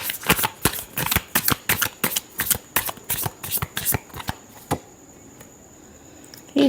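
Tarot cards being shuffled by hand, a rapid run of sharp riffling slaps and flicks for about five seconds, then a couple of isolated taps and quiet.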